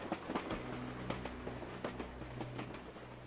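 Train rolling past in the Thimbleweed Park video game, rhythmic clacking of wheels over rail joints with a low rumble, steady and moderately faint.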